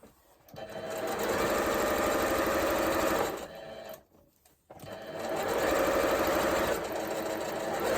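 Sewing machine running close up as the bottom of a shopping bag is stitched: two sustained bursts of rapid, even needle hum, with a brief pause and faint handling between them.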